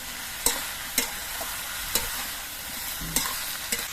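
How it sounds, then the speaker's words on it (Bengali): Vegetables with salt frying in a pan, a steady close sizzle broken by sharp spatula scrapes and taps roughly every half second, with no voices. "সবজিগুলো আমি কিছুক্ষণ ভেজে নিয়েছি"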